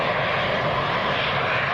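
A KLM airliner departing Leeds Bradford Airport for Amsterdam roars through its takeoff, a loud, dense, unbroken jet engine noise heard alone without voices.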